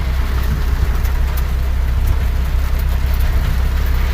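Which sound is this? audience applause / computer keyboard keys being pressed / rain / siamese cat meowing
rain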